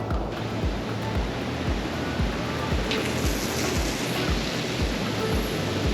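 Water rushing out of a sprinkler line being drained during winterizing, a steady, loud, close hiss and gush with low rhythmic pulsing, continuous throughout.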